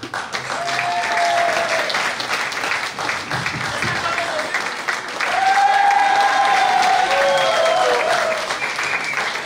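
Church congregation applauding and cheering to acclaim Jesus during a worship service, a dense, steady roar of clapping with voices and shouts mixed in, swelling louder midway and holding at full volume.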